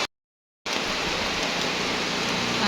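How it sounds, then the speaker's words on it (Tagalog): Heavy rain pouring steadily outdoors at a farm, a dense continuous hiss beginning abruptly after a brief silence and holding loud and unbroken. "Ang lakas pa rin ng ulan."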